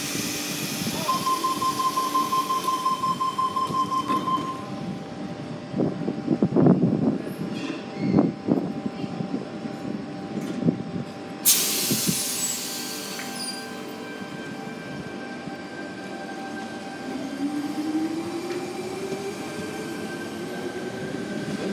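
A train rumbles and rolls away steadily from Sydenham station in Sydney, with a high electric whine rising and a clunk or two of cars moving, heard from the platform.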